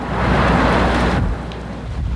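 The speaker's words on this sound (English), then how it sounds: "it's still raining and expected to rain all through the night" Heavy, steady rain pouring down during flooding in downtown Mobile, a loud dense wash that eases slightly partway through, with no voices.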